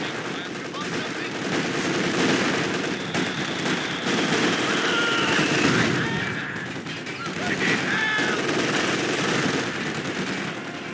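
Heavy machine gun fire rattles through a Company of Heroes 2 battle, sustained bursts of rapid shots layered with other gunfire and explosions, with soldiers' voices shouting over the din.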